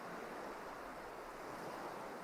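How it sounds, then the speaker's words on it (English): Ocean waves play quietly as background ambience, a soft continuous wash of surf with a steady airy hiss and no breaks or voices. "all I got is just some waves, some ocean waves"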